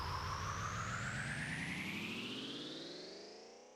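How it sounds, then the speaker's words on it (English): Boss RC505-MK2 loop station pitch-rise build-up effect with a broad noisy sweep climbing steadily upward, then fading out, faint and alone. "whether after the pitching up part, it should pitch down again or if it should just fade out"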